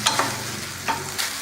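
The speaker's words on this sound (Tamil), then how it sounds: "ஸ்டவ்வை கம்மியில் வச்சுட்டு கீரையை ஒரு 2 நிமிஷம் நல்லா வதக்கணும்" Manathakkali greens being sautéed in oil in a pan over a low flame, a soft steady sizzle broken by a few sharp spatula scrapes as the leaves are stirred, close by and without speech.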